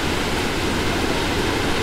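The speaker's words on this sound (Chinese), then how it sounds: "我们来到索尔德瀑布啦。" Sol Duc Falls in Olympic National Park roars as a loud, continuous broadband rush of falling water, heard up close and steady with no voices.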